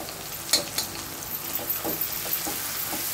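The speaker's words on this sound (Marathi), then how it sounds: "15-20 मिनिटं कोळंबी मॅरिनेशन करून ठेवलेली होती, ती आता मी ह्याच्यामध्ये ही कोळंबी टाकत आहे" Marinated prawns frying in a pan for prawn biryani, with a steady sizzle and a few soft scraping stirs at irregular intervals, close by and without talk.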